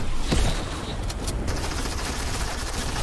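Gunfire in the video game Fortnite, a dense, continuous spray of rapid shots with a steady roar beneath, loud and close throughout.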